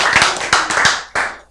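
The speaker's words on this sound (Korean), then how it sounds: "여러분이 박수치는 순간이야" Audience hand clapping in a lecture setting, several sharp separate claps in an uneven rhythm, close and fairly loud, with no talking.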